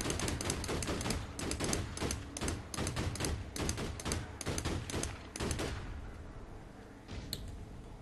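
Rapid automatic gunfire from a weapon in the online shooter APB Reloaded, loud and continuous for several seconds before cutting off into a quieter tail with a final isolated shot.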